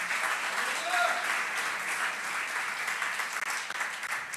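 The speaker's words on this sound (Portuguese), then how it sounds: "Dê uma salva de palmas ao Senhor." A church congregation claps during an evening worship service, a steady wash of many hands throughout, moderately loud, with a voice faintly audible at moments.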